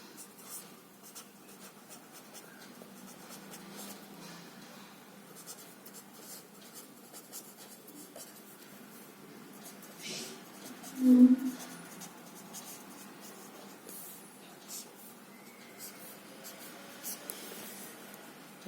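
A double bar graph being drawn by hand in a maths lesson, heard as faint, steady pen-on-paper scratching with one slightly louder stroke midway.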